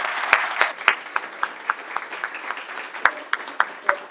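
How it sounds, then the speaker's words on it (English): An indoor audience at a city council live stream applauds a school robotics team, with a steady wash of clapping and sharp individual claps standing out near the microphone. "if you would give them a round of applause for this wonderful achievement"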